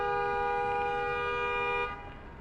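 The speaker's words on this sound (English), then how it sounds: "What was with that honking just now?" A car horn honks in one long steady blast that stops abruptly, heard on a street in Los Angeles amid low traffic rumble.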